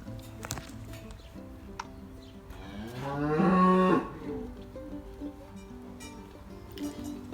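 Cattle moo from inside a pen on a farm raising Simmental beef cows, mostly breeding mothers, with one loud, drawn-out moo standing out at mid-clip against quieter farmyard background noise.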